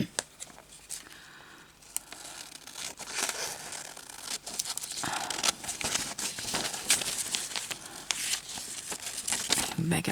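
Scissors snipping through weaving material, crisp crinkly cuts close by mixed in with handling rustle and light talk over it.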